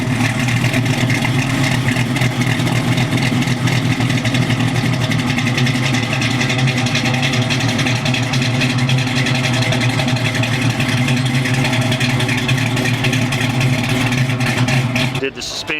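A classic truck with a 6-liter LY6 LS V8 runs at a steady, loud, throaty idle with a dense low rumble the whole time. Voices murmur in the background.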